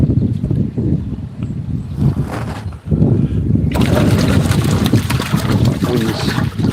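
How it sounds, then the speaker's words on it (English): Blustery outdoor wind buffets the microphone in rough, loud gusts, rising to a stronger roar partway through, with a hose running nearby and occasional faint voices in the background. "Wind's starting to bite, isn't it?"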